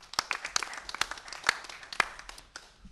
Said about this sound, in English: Small round of applause, please.